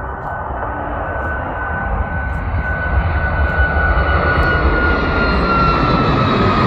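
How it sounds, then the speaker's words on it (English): A United Boeing 737 Max jet roars on the runway at Houston Intercontinental, its loud, steady engine noise filling the whole stretch with a broad rumble and a faint high whine, and no talk over it. "Okay, on runway 15 right, we've got a United Max."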